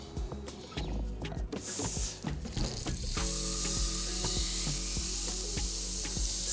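A rib-eye steak hits a smoking-hot pan with a sharp burst of sizzling that settles into a steady, loud frying hiss, with a few clinks at the start.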